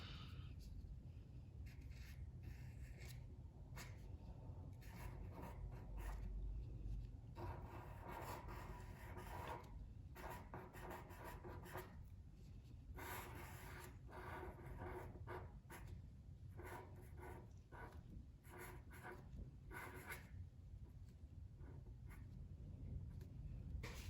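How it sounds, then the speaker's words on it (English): Pen scratching cursive letters on paper in an art lesson, close and quiet, a continuous run of short scraping strokes and pauses with no talk. "I'm gonna try to write it in cursive"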